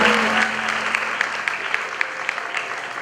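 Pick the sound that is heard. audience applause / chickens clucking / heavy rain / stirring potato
audience applause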